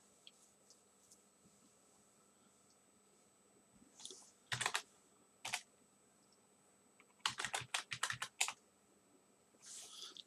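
Password being typed on a computer keyboard during an SSH login in a networking lab: clusters of quick close key clicks, first a short burst, then a lone press and a longer rapid run of keystrokes, with quiet gaps and no talk.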